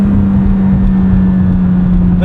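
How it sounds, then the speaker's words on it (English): A 2025 McLaren 750S turbocharged supercar holds a steady, loud engine drone from inside the cabin, a constant low hum sustained throughout with no clear rise in pitch. "I like the accentuated turbocharged nature of the 750S."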